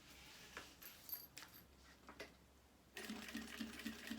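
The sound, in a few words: sewing machine stitching a backstitch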